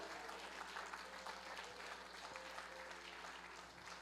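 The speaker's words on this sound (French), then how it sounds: "Est-ce qu'on peut acclamer le Seigneur par rapport à cela?" A church congregation applauds in a steady, even wash of clapping that carries at moderate distance and low volume, without a break for the full stretch.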